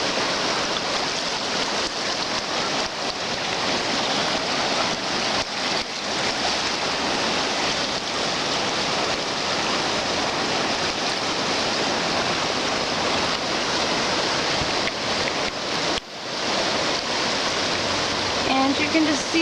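Floodwater on the swollen New River rushes past close by in a loud, steady roar, unbroken broadband torrent noise throughout with one brief dip near the end.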